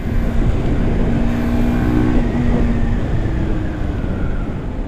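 A Hero Hunk 150R ABS motorcycle running on Petrol rides along a road, its engine and road noise holding steady and loud close to the microphone throughout, with no talking.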